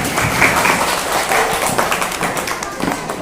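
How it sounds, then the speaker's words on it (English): Young children in a spelling bee class clap together, a short burst of quick, dense applause at close range, with some voices mixed in. "Right, clap for her."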